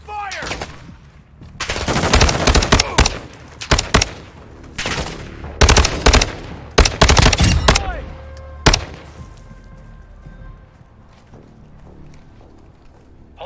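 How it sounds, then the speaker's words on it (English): Gunfire in Call of Duty Modern Warfare II DMZ video game comes as loud, close bursts of rapid automatic shots and single cracks that cluster densely, then thin out to sparser distant reports. "Taking effective fire!"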